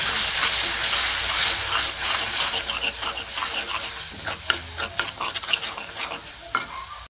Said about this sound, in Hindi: अच्छी तरह से इसको भून लेंगे